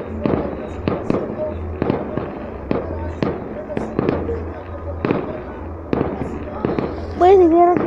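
Fireworks bombs burst one after another at a castle-burning festival in San Miguel Ameyalco, a string of loud, sharp booms at irregular intervals, with a whistling rocket near the end and people talking in the crowd.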